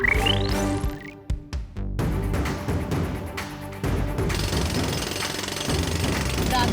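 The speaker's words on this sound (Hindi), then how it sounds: "दादाजी, मैंने ड्रिलिंग शुरू कर दी है" A cartoon robot boy drilling into a meteor gives a loud, continuous mechanical jackhammer-like rattle with a rising whine at the start, set against dense cartoon score and effects.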